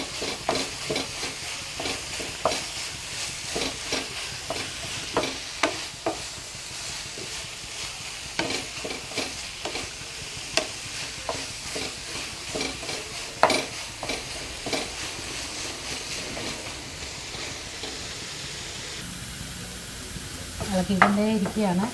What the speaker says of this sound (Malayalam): ഇളക്കിക്കൊണ്ടേ ഇരിക്കുകയാണ്